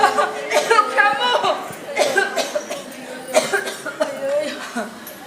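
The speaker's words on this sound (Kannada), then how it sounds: "ಕೆಮ್ಮು ಕೆಮ್ಮು ಇನ್ನೂ ಕೆಮ್ಮು." Repeated coughing in a Kannada stage drama, a string of harsh bursts close and loud, mixed with chuckling and voices.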